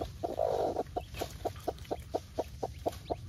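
Philippine native chickens on a farm cluck in a steady series of short, evenly paced calls, close and fairly loud, over a soft background hiss, with a brief louder burst near the start.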